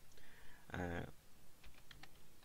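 A few light, quick keystrokes on a computer keyboard come after a brief voice, faint and close against a quiet room.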